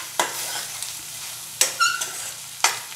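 Palak spinach and egg fry being stirred in a pan with oil, three distinct spatula scrapes standing out over a steady sizzle, no talking.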